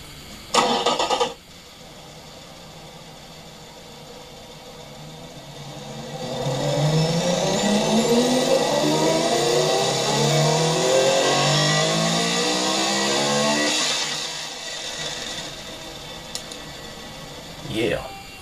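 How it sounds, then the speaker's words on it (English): A 3.5-litre V12 car engine cranks over after a short knock, catches and revs up into a sustained rising, warbling roar, then settles back before a closing clunk. "Let's listen to his V12."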